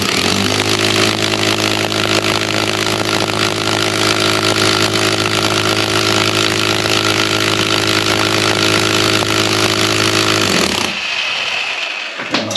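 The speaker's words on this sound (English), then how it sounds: "So I'm going to use a 7mm drill bit there with some brown plugs" A power drill with a 7mm bit drilling into concrete whines and grinds loudly and continuously for about ten seconds, then cuts out abruptly, leaving near silence.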